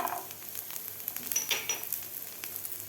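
Garlic dropped onto golden-browned onion sizzles in a pan while being stirred, a steady close frying hiss with scattered bursts and light scraping, no talking.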